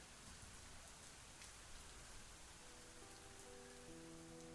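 Steady rain falling in the video game I Wani Hug That Gator!, a constant dense hiss with soft scattered drops, even and unbroken throughout, with faint sustained musical tones entering near the end.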